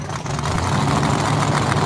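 A 5.3 LS turbo drag car running nitrous at a no-prep drag racing event, heard as a brief, steady, loud engine rumble close by.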